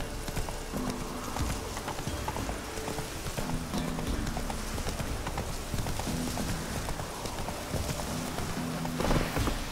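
Roach, a horse in The Witcher, gallops at a steady pace, with rapid rhythmic clip-clop hoofbeats that stay close and continuous and have a rough, noisy texture.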